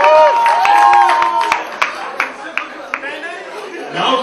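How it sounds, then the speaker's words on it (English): Audience at a celebrity cricket team launch event claps and chatters for the team captain, a burst of applause that thins into scattered claps under lively crowd talk, with a speaker's voice at the start. "please give her a huge round of applause"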